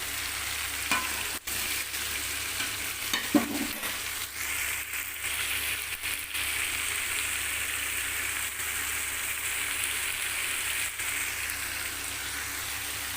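Green chilies and curry leaves frying in hot oil in a pan for egg gravy, a steady close sizzle with occasional light stirring clicks, no talking.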